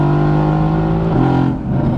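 A 650-horsepower car revs hard toward 6,500 RPM, its engine screaming loud and close, then the pitch drops sharply as it shifts gear and starts climbing again.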